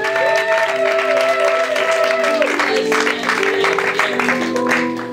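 Church congregation applauding and cheering to acclaim God during a French-language service, dense continuous clapping and crowd noise throughout, with sustained tonal music or singing under it.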